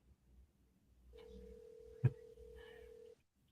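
A telephone call being placed: a steady electronic line tone holds for about two seconds, with a brief click near its middle, over a faint low background.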